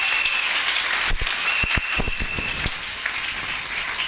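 Church congregation at a Sunday worship service breaks into scattered clapping and acclaim, sharp claps in an irregular burst over a steady hum of the hall, loud and close.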